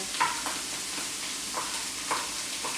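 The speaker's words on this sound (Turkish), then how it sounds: "Şimdi ben patatesleri kızartayım." A steady low sizzle of potatoes frying in a pan, with occasional soft scrapes of a utensil stirring, no voices.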